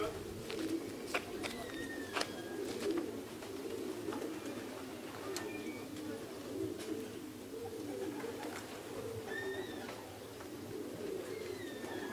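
Pigeons coo softly at a racing pigeon loft as birds arrive from a race, with faint chirps and a steady low outdoor hum throughout; no clear talk in the foreground.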